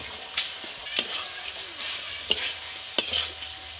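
Cauliflower florets hit hot spiced oil with a cashew and poppy seed paste, and a steady close sizzle runs under several sharp spatula clanks and scrapes as the pan is stirred, with no voices.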